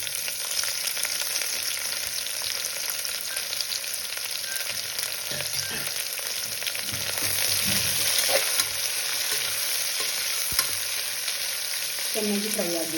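Sliced onions fry in a pan for mushroom biryani, a steady close hiss of oil sizzling throughout, with a few stirring scrapes and a brief clink near the end; no one speaks.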